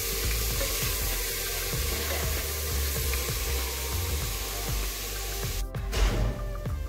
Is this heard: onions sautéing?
yes